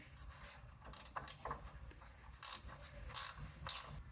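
A ratcheting 10mm wrench works a nut loose on the rear bumper bolt of a 1994 Chevy K1500 truck, giving several short bursts of clicking ratchet action spread across a few seconds, close and fairly quiet.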